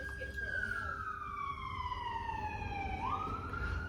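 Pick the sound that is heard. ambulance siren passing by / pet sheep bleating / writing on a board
ambulance siren passing by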